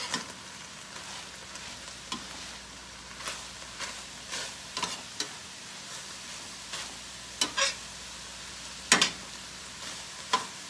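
Shredded cabbage frying in a pan for homemade egg rolls is stirred with a utensil, giving a steady low sizzle broken by irregular scraping and clattering strokes, some sharper and louder than others, with no voices.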